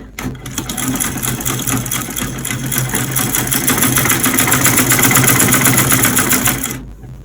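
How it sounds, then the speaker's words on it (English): A sewing machine runs continuously while stitching the half-inch waistband of a pair of shorts. Its motor hums and rattles in a close, even whir that builds slightly and then stops near the end. "And then you just start stitching it on the 1 inch."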